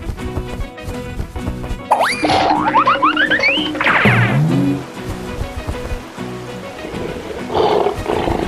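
A lion roar from an animal sound guessing game, loud and close, with rising and falling bellowing tones in two or three bursts over a low background wash.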